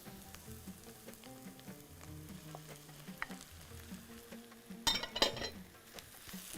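Chicken sizzles and crackles steadily in a hot frying pan, with a brief louder burst of spitting and stirring partway through.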